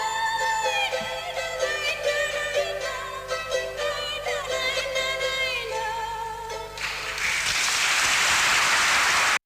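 A concert audience breaks into a loud ovation, with sustained dense clapping rising after the music fades out and filling the last few seconds.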